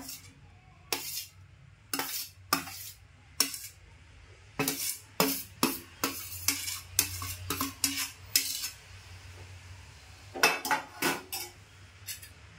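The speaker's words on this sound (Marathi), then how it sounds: "आता मी असा काटा घेतला आहे त्याने ढवळून घेते असं मुळापासून" A fork stirs cooled coconut rice in a metal pot, making a series of sharp, close clinks and scrapes in irregular bursts, with short pauses between strokes.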